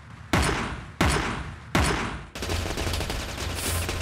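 Heavy rifle in Teleglitch firing three loud, spaced single shots that each ring out, followed by a denser stretch of rapid sustained gunfire.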